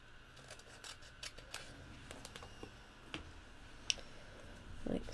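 Scissors make a close cut through masking paper in a paper-crafting stamping project, producing faint intermittent snips and small clicks in a quiet room.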